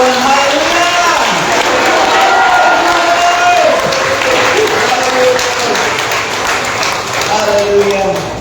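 A church congregation claps loudly and cheers together during a morning worship service, sustained, dense applause with raised voices and shouts running unbroken throughout.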